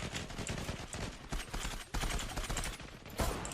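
Rapid Desert Eagle pistol gunfire in a video game, a dense run of sharp, repeated shots with brief pauses, heavy and clipped in sound.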